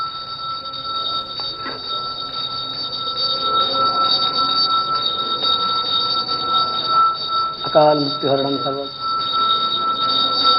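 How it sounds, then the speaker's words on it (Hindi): Temple bells ring steadily and continuously during the Ram Darbar aarti at the Ram Mandir, a bright metallic tone sustained beneath a man's Sanskrit chanting. "लेकिन वहाँ घंटियाँ लगातार बज रही हैं।"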